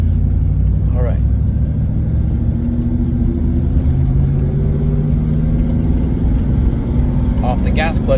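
A manual-transmission car pulls away as the clutch is released, its engine giving a loud, steady low rumble from inside the cabin while people talk over it.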